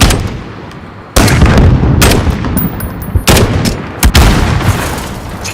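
Dense game gunfire from a Modern Warfare firefight: loud, sharp bursts and shots hit in close succession with booming impacts, a near-continuous barrage with brief lulls between volleys.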